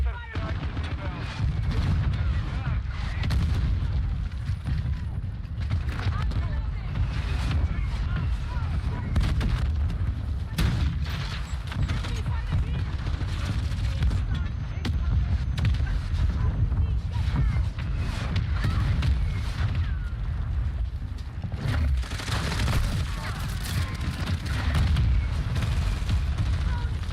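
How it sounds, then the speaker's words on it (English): Mortar strike explosions in Call of Duty Modern Warfare II, heavy continuous booms and gunfire rumbling loudly throughout, with game voices calling out over the barrage. "Hostile mortar strike in the area. Our mortar strike is inbound."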